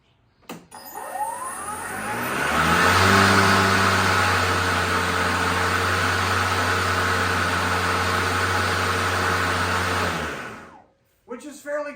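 An Ego battery electric self-propelled lawn mower whirs up to a steady hum and runs evenly for several seconds before spinning down, close by and fairly quiet.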